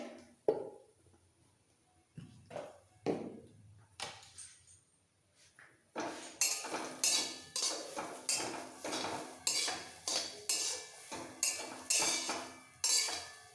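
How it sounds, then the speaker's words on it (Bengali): Grated carrot halwa being stirred and fried in a pan: a quiet stretch of scattered scrapes, then steady rhythmic clinks and scrapes of a spoon against the pan, close and moderately loud. "এবার খুব ভালো করে ভাজতে হবে তিন চার মিনিট গ্যাসের ফ্লেমটাকে মিডিয়াম টু লোতে রেখে কন্টিনিউ নাড়াচাড়া দিয়ে নিতে হবে"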